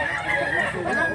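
A big rooster, about two years old, crows once briefly at close range somewhere in rural Mantalungon, Cebu, with a strained, raspy call and possible voices nearby.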